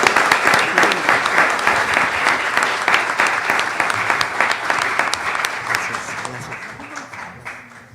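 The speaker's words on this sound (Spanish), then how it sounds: "para quienes pido un aplauso." Audience at a genealogy conference applauds, a full, steady burst of many overlapping claps that holds strong and then gradually thins and fades out by the close.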